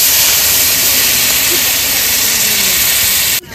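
Water poured into a hot pan of browned chicken sets off a loud, steady sizzling hiss that fills the air close up, then cuts off abruptly near the end.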